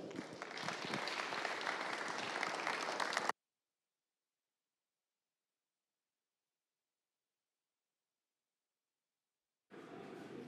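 A conference audience applauds a speaker in a dense, even burst of clapping that stops abruptly, followed by a long stretch of total silence before the clapping returns briefly at the end.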